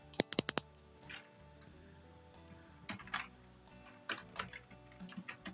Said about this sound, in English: type your branding name here